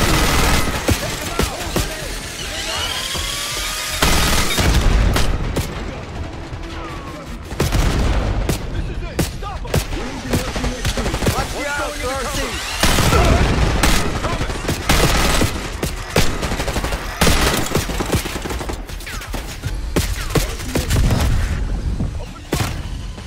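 Machine gun fire in the video game Call of Duty Black Ops 6, loud sustained bursts and rapid volleys with booming impacts, broken by short pauses, while voices shout in between.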